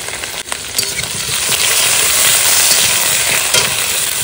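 Ginger and green chillies drop into hot oil left from frying fish and potatoes, setting off a loud, steady crackling sizzle that swells after a brief utensil knock and holds close throughout.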